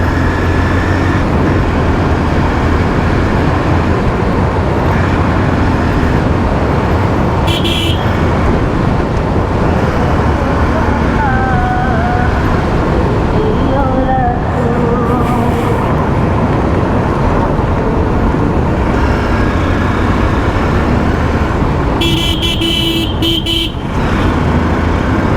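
A vehicle hurries along a road in traffic toward a ferry, passing a bridge under construction, with a constant loud engine and road rumble and short horn toots around eight seconds and again near twenty-two seconds.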